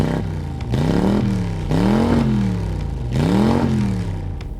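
Hyundai Genesis Coupe engine revved three times in succession, each rev rising and falling with a loud, throaty exhaust note close by, no talking.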